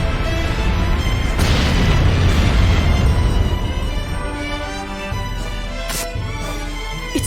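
Explosions in the video game Disgaea 4 roar as a loud, continuous booming rumble with sharp crackling bursts near the end, gradually easing off.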